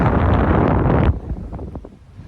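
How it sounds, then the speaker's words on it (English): Wind buffets a microphone outdoors with loud, rough low roaring for about a second, then drops to softer, uneven gusts and rustling. "trying to get you out of that wind"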